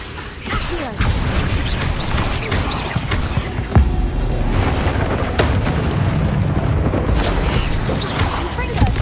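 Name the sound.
spell blasts and explosions in Hogwarts Legacy video game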